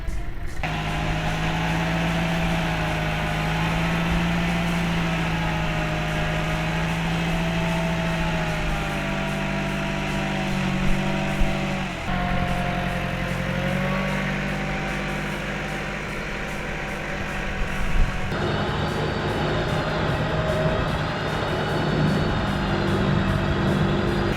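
A 20-year-old Toyota Hilux rolls into a puddle, its engine droning steadily with revs rising and falling through shifts and a splashy, rough texture underneath, close and continuous.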